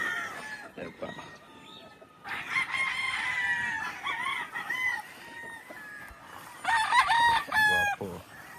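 Gamefowl roosters on a farm crow repeatedly, several drawn-out cock-a-doodle-doos overlapping at close to middle distance, with clucking between calls and a brief voice at the start.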